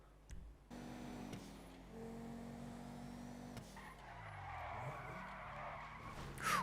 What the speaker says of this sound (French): il était presque bon ce dérapage en vrai